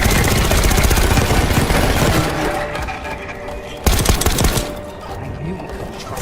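Rapid automatic gunfire in the Call of Duty Black Ops 6 campaign, loud sustained bursts that thin out midway, with a sharp blast near the four-second mark before the firing tapers off.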